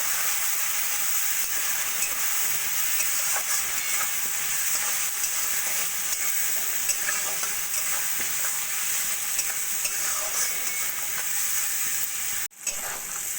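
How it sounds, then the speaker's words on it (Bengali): Diced potatoes fry with ginger-garlic paste in a pan, giving a steady, close sizzle with faint scraping stirs throughout and a brief break near the end. "ভালো করে মশলাটা আলুর সঙ্গে কষিয়ে নেবো"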